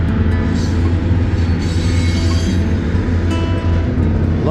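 A BNSF freight train hauling lumber cars labors up a heavy grade beside the Columbia River, its locomotive engines droning loud and steady with a deep rumble and faint metallic wheel noise throughout.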